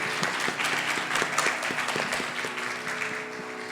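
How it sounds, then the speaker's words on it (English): Audience applause at a Bharatanatyam Arangetram, a steady wash of many hands clapping together at moderate volume, with faint tonal music lines running underneath throughout. "Let us give her a big round of applause for such a beautiful start."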